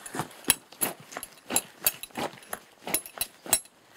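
Small straps jangle in a rhythmic foley performance, producing about a dozen bright metallic clinks and rattles in an uneven galloping pattern, close and dry.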